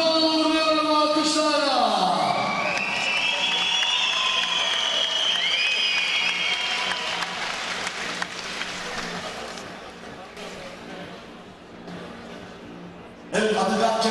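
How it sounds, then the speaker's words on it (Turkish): Crowd applause and cheering for a champion at a trophy ceremony after a fight, starting with a loud burst that slowly thins out, with a voice talking over it and an announcer's voice returning at the end. "alkışlarla şampiyonluğunu veriyorum, alkışlarla."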